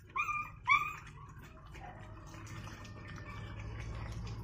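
A mother dog with puppies gives two short, high whimpers close by, followed by a faint, low background hum and scattered soft noises.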